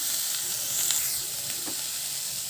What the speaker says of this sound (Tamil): பச்சை பட்டாணியும் அப்படியே ஃப்ரை பண்ணிக்கலாம்